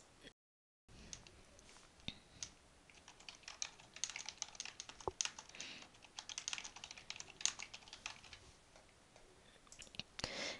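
Quiet typing on a computer keyboard as a report name is entered, a steady run of soft, close key clicks with a few sharper taps, after a brief silent gap at the start.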